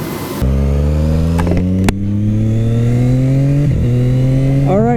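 A Triumph motorcycle fitted with a full Akrapovic titanium exhaust revs hard on a dyno, a loud, steady climbing engine note that holds for several seconds with a brief crackle near the start.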